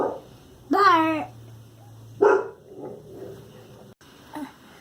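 A dog gives a couple of short, separate barks with quiet gaps between them, fairly close by.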